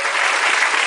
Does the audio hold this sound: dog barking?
no